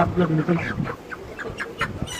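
A chicken being weighed on a scale clucks and squawks in short bursts close by, with people talking alongside it.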